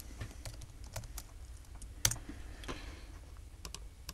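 Keys clatter on a computer keyboard while tracks are renamed in music software, a run of close, quick clicks with one sharper keystroke midway and no talk.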